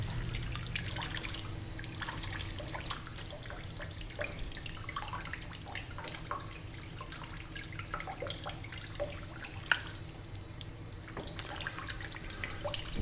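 Running water rinsing a platinum photographic print in a darkroom sink, a steady broadband wash of flowing tap water with scattered small drips and splashes, constant and fairly close, with no talking.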